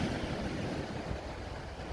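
Ocean waves crashing on a beach, a steady broadband roar of surf with wind noise on the microphone, loud and continuous throughout with no talking.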